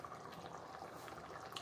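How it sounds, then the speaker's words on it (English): Italian sauce bubbling in a pot, a soft continuous simmer of small pops and gurgles, close and quiet with no talking. "Do you guys hear this bubbling? It's like a cauldron of Italian goodness."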